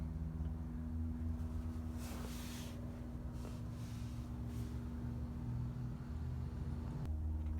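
DuroMax XP10000E portable generator with an 18 horsepower motor running on gasoline, a steady close, low droning hum throughout with a brief dip near the end.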